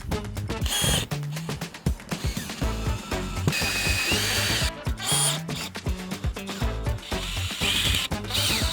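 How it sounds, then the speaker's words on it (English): A power drill drives screws into plywood while a Bigfoot camper is rebuilt. Close, repeated whirring bursts with ratcheting clicks fill the stretch, and no one speaks. "So we're gonna put some screws in first, get it started."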